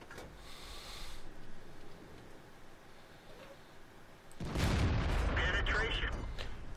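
A tank destroyer's main gun fires in World of Tanks, one loud close blast around four and a half seconds with a lingering rumble after it, following quieter ambient battle noise.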